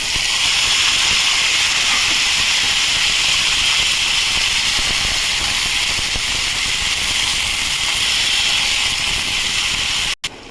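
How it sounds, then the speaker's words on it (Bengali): Snake gourd (chichinga) pieces hit a hot pan of fried onions and sizzle in a loud, steady hiss that holds without a break, with no voices, before stopping abruptly at the end. "এবারে আমি চিচিঙ্গাটা দিয়ে দেবো।"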